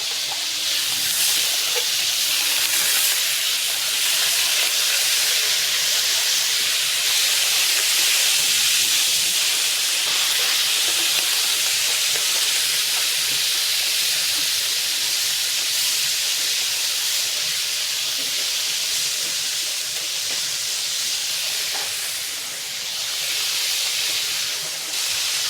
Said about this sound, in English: We are adding the small Norway lobsters, known for their delicate flavor and tender texture